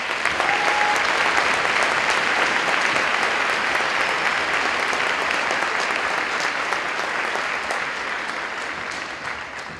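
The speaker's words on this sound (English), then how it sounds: "I'd like to give one big round of applause to all of our veterans that attended this afternoon." Sustained round of applause from an audience honoring veterans at a school Veterans Day ceremony, dense and loud clapping that holds steady for nearly ten seconds before easing slightly at the end.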